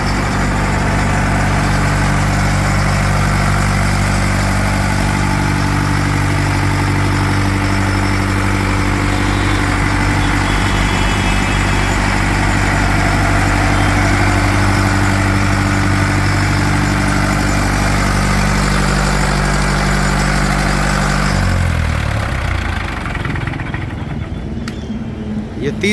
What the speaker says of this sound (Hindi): आप देख सकते हो जनरेटर स्टार्ट हो चुका है।